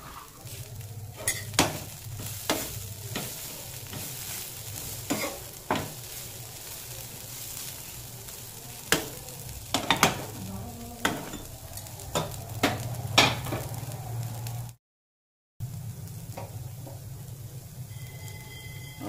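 Neem flowers with chopped green chilli fry in a pan, sizzling steadily while a utensil stirs and scrapes in repeated clinking strokes, close by, broken by one short gap of silence.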